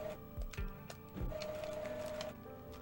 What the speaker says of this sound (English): You might be able to hear my printer activating